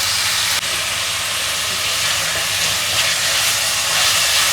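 Carrots sizzling in a hot pan for chow mein, a steady, loud frying hiss that holds unbroken throughout.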